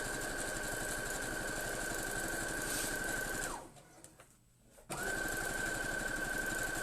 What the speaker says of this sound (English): So I'm just back stitching on each of those sides.